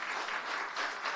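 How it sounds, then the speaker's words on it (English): A brief stretch of audience applause at a gathering, a soft, even wash of many hands clapping heard from a distance for about a second, with no voices over it. "I want to give you a round of applause."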